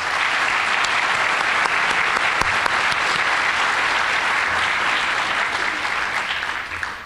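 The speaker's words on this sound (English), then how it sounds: "I think it's important that we give our innovators another round of applause." An awards-ceremony crowd claps steadily and warmly throughout, a dense sustained applause that tapers slightly at the end.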